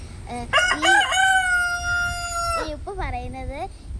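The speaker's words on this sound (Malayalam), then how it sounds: "ഇപ്പം കോഴി കൂവയാണ്. അതെ ഗൈസ്, കോഴി കൂവതാണ്" A loud, close rooster crow, a long drawn-out call followed by a shorter second crow, with faint background noise.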